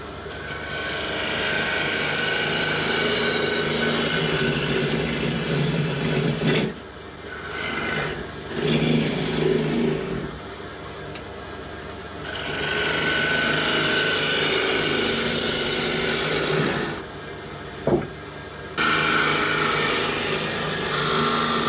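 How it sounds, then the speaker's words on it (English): A tool cuts into a wet wood bowl spinning on a lathe, giving a loud continuous rasping hiss that breaks off briefly twice and then starts again, close up with no talk. "This is a bowl we are turning wet"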